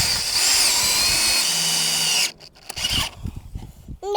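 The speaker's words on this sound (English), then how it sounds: "you gonna drill it?" A power drill bores a hole for a DIY chicken waterer bucket, whirring loud and steady for about two seconds before stopping, followed by softer handling noises and brief talk.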